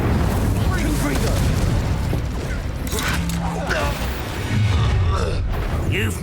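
Spell explosions crackle and boom in Hogwarts Legacy combat, dense layered blasts and magical whooshes over a loud, continuous game soundtrack, with character voices shouting spell names throughout.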